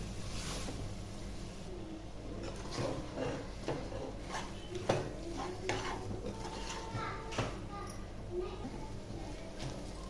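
A spoon stirs and scrapes coconut chutney with onions in a pan on a stove, making soft, intermittent clinks and scraping strokes that are faint and close against a low kitchen hum.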